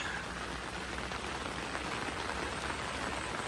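Heavy rain falls during flooding in Southern Thailand, a dense, even hiss of drops pattering on surfaces, steady and close throughout with no voices.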